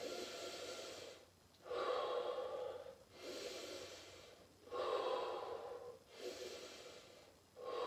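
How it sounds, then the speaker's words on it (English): Three slow, deep breaths during a gentle strength exercise, each a long airy inhale and exhale, close and soft, with short pauses between them and no talking. "Three nice big deep breaths here"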